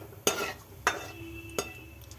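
Whole spices, cumin, asafoetida, black cardamom, cloves and black peppercorns, roasting in a pan, with three sharp scraping stirs of a spoon over a faint low sizzle, quiet and close.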